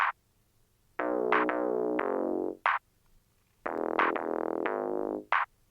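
Bass pattern run through a Chris Lord-Alge Filter Vox plugin, giving a vocal-like, filtered electronic tone: two phrases of sustained, buzzy notes, each closed by a short bright blip, with no voices.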